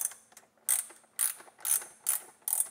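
Ratchet wrench with a socket backing out the bolt that locks a dishwasher motor in place, giving five or six sharp, close clicking bursts in an even rhythm with quiet gaps between.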